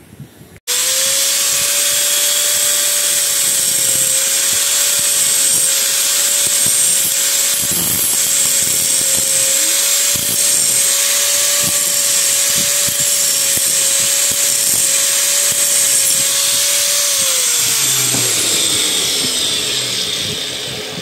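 An angle grinder grinds metal continuously for a long stretch while a washing machine bushing is replaced, a loud high whine with harsh abrasive noise, winding down at the end.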